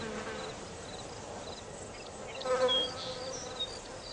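Flies buzzing around garden flowers give a continuous close insect drone with small shifts in pitch, briefly louder partway through, over a soft outdoor background.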